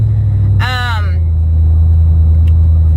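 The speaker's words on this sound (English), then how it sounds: "I'm in my husband's truck, so it's kind of loud" A steady low engine drone fills the cab throughout, loud and constant, with a brief burst of a voice near the start.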